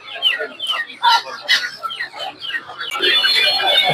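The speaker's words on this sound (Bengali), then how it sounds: "দেখতে পাচ্ছেন প্রচুর পরিমাণে এইসব মুরগি পাবেন ওনার কাছে" Chickens cluck and squawk in a busy Tongi poultry and pigeon market, several birds calling in quick irregular bursts close by, with a denser wash of market clucking building toward the end.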